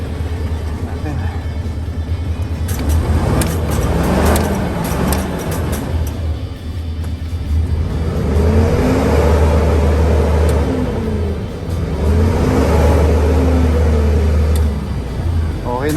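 A 2010 Isuzu Giga 12-wheeler wing van with a 6UZ1 engine running close by: a steady low diesel idle that rises into two smooth revs and falls back, with someone talking over it.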